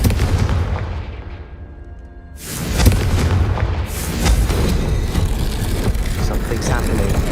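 A Confringo spell explosion in the Hogwarts Legacy video game bursts loudly about midway, then a rumbling, crackling wash of game sound continues, following a quieter, fading lead-in.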